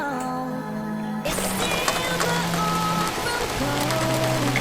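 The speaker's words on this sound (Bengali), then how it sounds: "আমি ছবি আঁকতে বসলেই বৃষ্টি হয়, ভালোই লাগে।" Steady rain falls outdoors as a continuous, even patter on surfaces, moderately close, with faint sustained background tones running beneath it and no voices.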